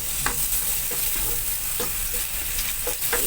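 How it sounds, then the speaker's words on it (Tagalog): Onions sizzling in hot oil in a frying pan, a steady bright crackle with soft stirring scrapes, close and loud, with no talking. "Dahil mainit na yung mantika natin, ilagay ko na yung sibuyas."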